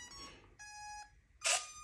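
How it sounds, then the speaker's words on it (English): A Radiomaster Zorro RC transmitter sounds a telemetry alarm: two clear electronic beeps, the second longer, then a louder harsh buzz, close and alone. "let's make this quit beeping"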